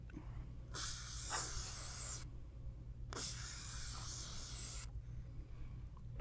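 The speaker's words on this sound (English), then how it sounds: "yes, I probably am spraying more than I probably need to" An aerosol can of silicone spray sprays in two long hissing bursts, each lasting over a second, close by, over a low steady hum.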